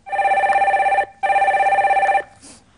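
A telephone rings for a call-in during a live broadcast: two long, loud electronic trilling bursts with a short gap between them, then the line cuts off, with no talk over it.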